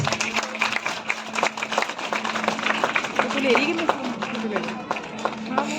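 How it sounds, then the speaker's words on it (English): Applause rises from an audience at a school annual function at Malviya Convent School, a continuous bed of clapping with crowd noise and voices mixed in throughout. "Huge round of applause."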